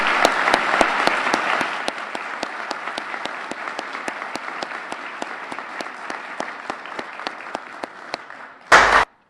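A crowd at a police swearing-in ceremony claps steadily for several seconds, a dense round of applause with a few sharper claps standing out, ending in a brief loud burst.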